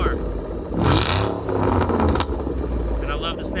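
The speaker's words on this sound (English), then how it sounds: "give it a rev" A car engine revs up sharply and then settles, with a raised voice talking over the throaty exhaust.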